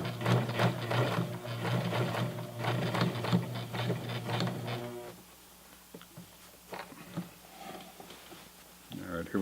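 A domestic sewing machine with a denim needle stitches the hem of Levi's 550 jeans, a fast rhythmic mechanical chatter running for about five seconds before stopping, followed by quieter handling clicks and a brief restart; close up.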